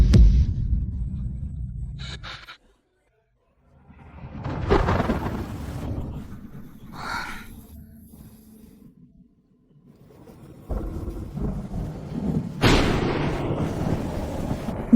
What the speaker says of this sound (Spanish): Este trueno da mucho miedo.